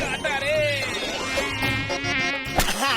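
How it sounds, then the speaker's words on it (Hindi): A cartoon mosquito buzzes in a high, wavering whine that stays loud and close throughout, with faint background sounds and a sharp hit near the end. "मैं वो मच्छर को मारती।"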